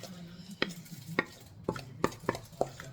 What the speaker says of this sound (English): Turn this out into the baking tray.